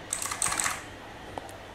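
Fingers typing on an Armageddon MKA-61C Starling 60% mechanical keyboard, a close, quiet run of light clicky keystrokes clustered early on, then a couple of isolated taps.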